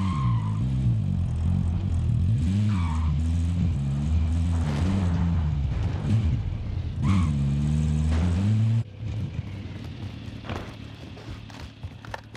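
A light vehicle drives in Call of Duty: Modern Warfare, its engine droning loud and steady, the pitch swelling and dipping as it accelerates. Near the end the engine drops to a quieter rumble.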